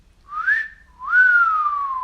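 A person gives a two-part catcall whistle, a short rising note followed by a longer one that swoops up and slowly falls, clear and close.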